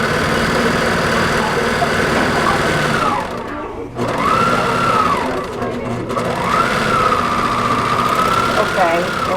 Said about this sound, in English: You have to separately serge each side.